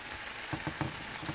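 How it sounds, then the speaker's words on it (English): Glazed pork tenderloin steaks simmering in a pan with cilantro and garlic give a steady, close sizzle and bubbling hiss, with a few soft pops and no talking. "the pork steaks, the tenderloin steaks, are already simmering"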